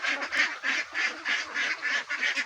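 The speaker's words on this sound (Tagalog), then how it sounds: "yan sila guys yung ating itik" Pet ducks fed on bran quack in a steady rhythmic chorus of about ten nasal calls, close and fairly loud, with no talk over them.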